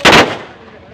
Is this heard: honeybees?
no